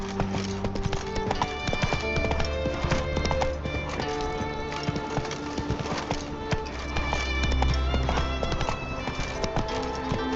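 Roach, a horse in The Witcher 3, gallops with rapid, steady hoofbeats throughout, loud and close, over a layered game soundtrack and ambience.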